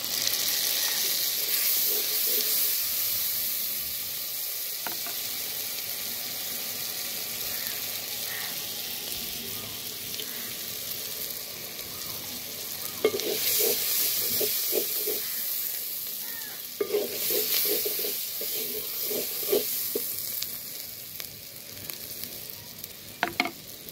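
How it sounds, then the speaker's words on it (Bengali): Onions sizzle in hot oil while being tempered for chatpati, a steady hiss of frying with occasional stirring scrapes and louder crackling bursts, close and continuous for the full stretch. "আর পেঁয়াজটা একটু কাঁচা থাকতে থাকতে হচ্ছে বাগার দিব।"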